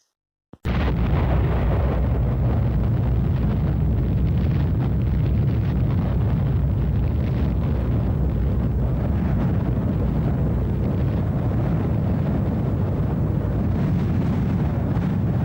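Atomic bomb explosion from a uranium bomb of nearly 13,000 tons of TNT, heard as a sudden onset followed by a continuous, loud, deep roaring rumble that persists at a steady level with no speech.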